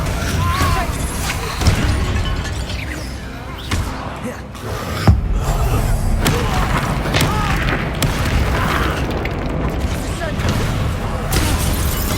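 A Confringo spell fires in the Hogwarts Legacy video game and lands as a loud booming blast, set among continuous battle effects, thuds and music over roughly twelve seconds.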